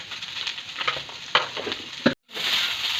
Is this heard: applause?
no